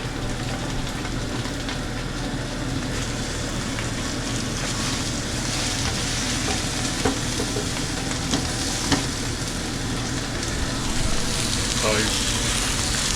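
Chipolata sausages sizzle and spit in a hot pan as they brown, making a steady, close, continuous frying hiss from start to finish.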